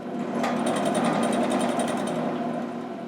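Old blacksmith equipment hammering a spot on a piece of metal: a rapid, machine-like train of sharp strikes lasting about two seconds, loud and close, with no speech.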